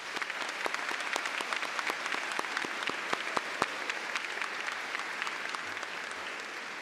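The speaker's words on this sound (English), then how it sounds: "Round of applause for that." Graduation audience applauding at a high school commencement ceremony, steady dense clapping from a large crowd with a few sharper individual claps standing out, continuous and moderately loud throughout.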